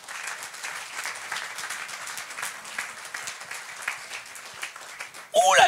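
A church congregation at a worship service claps and applauds in a steady, rhythmic wave that fills the room, with voices carrying over it and a louder burst of sound at the very end.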